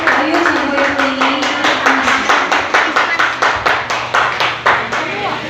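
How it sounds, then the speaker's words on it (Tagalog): A church congregation claps together in a steady rhythmic beat, loud and close, about three claps per second, with a voice speaking over it. "Yan yung mga unlimited na palakpak para sa Diyos."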